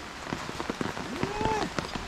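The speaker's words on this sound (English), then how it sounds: "We getting rain." Rain patters steadily on an outdoor cooking area in Jamaica, with scattered close drops striking surfaces and an umbrella above, while people talk quietly in the background.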